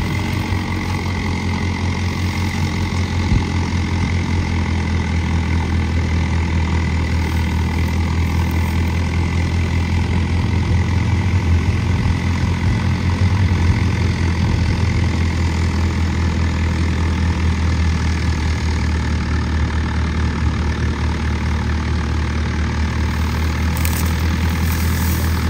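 A 50 hp tractor with a turbo upgrade runs a ten-foot cutter, its engine holding a loud, constant low drone for the whole stretch with no talking.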